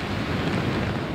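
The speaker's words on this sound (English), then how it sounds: "High surf crashed onto the beach, sending water pouring into the streets." Heavy Atlantic surf crashes on a Jacksonville beach as Hurricane Matthew's storm wind roars, making a dense, continuous wash of water and wind buffeting the microphone, with no voices.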